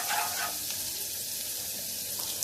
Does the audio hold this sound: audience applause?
no